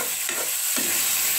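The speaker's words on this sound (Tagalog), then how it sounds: "Sige, gisa-gisa muna" Chopped cabbage sautéing in a pan, a steady close sizzle with stirring scrapes and a brief louder hiss near the end, no talking.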